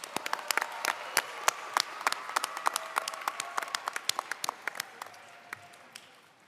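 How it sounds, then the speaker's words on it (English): Audience at an MLK Jr. oratory competition applauds with sparse, distinct individual claps rather than a dense roar, fading gradually over several seconds. "Let's give them all another round of applause."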